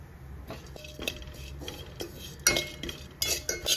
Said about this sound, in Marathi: ओट्स ना तुपामध्ये भाजून घ्यायचे।